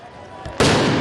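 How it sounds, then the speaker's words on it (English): Fireworks launched by protesters toward police in Paris erupt as a sudden loud, broadband burst after a brief quieter lead-in, close and sustained to the end. "the protesters started launching fireworks at the French police"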